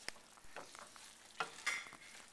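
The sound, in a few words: stirring parmesan into risotto rice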